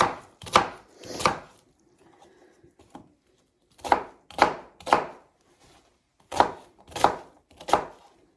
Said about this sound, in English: So I just cut my onion up as best I can because once again, I'm going to cook it down.